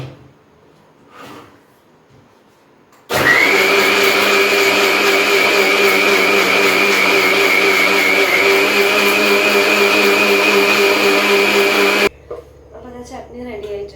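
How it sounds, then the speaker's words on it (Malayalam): A kitchen mixer grinder grinds chutney ingredients with a loud, steady high-pitched whir that starts abruptly, runs for about nine seconds and cuts off; quiet handling noises come before it and a voice speaks briefly afterward. "ഇനി ഇതൊന്ന് അരച്ചിട്ട് വരാം."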